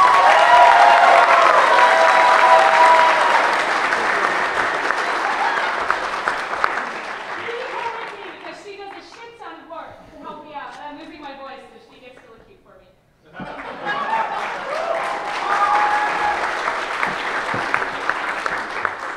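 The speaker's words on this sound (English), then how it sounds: "So please give a round of applause to Lana and her staff." Applause from a convention audience at a cybersecurity conference opening ceremony, a loud sustained wash of clapping that dips into quieter, sparser claps and voices in the middle before swelling back to full strength.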